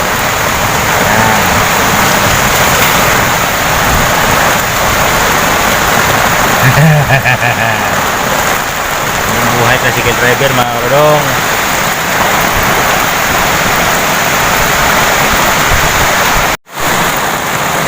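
Heavy rain with large drops pours in a dense, loud, steady roar, with wind, while someone talks over it throughout.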